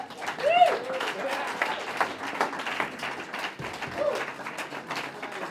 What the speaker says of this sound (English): That's a warm applause.